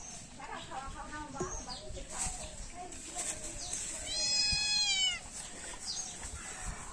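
A cat meows in a village kitchen while mustard oil heats in a pan on the stove. It gives one clear, drawn-out, fairly close meow, with fainter cries and household background around it.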